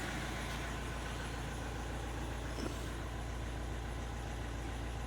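An Opel Astra H 1.7 CDTI diesel engine idles with a misfire and wavering revs, giving a steady, close, droning hum that holds evenly for the whole stretch with no voices.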